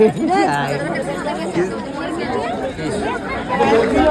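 Dense crowd chatter at the Khandoba temple fair in Shelvali, many overlapping voices talking close by in a loud, continuous babble.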